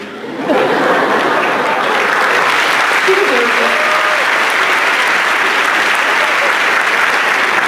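Sustained applause from a large audience at a Hall of Fame induction ceremony swells in quickly and holds steady, with a faint voice or chuckle briefly audible underneath.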